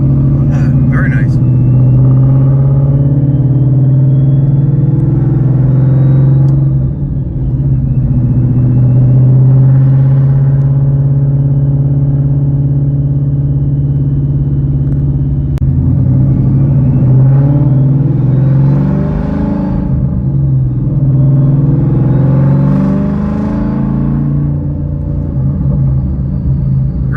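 A Whipple-supercharged 2016 Ford Mustang S550 with a 2.9L supercharger and manual gearbox rumbles with a deep, loud exhaust drone that rises and falls through several accelerations from inside the car. Occupants talk over the engine.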